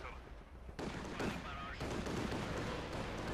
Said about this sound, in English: They're dropping delayed explosive mortars on me.